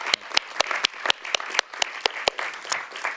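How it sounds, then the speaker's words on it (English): Sparse, scattered clapping from a small audience at an event launching a book on China as a global development actor: distinct individual claps in an uneven rhythm, moderately close, with no talking over them. "Thank you. Thank you. Big applause."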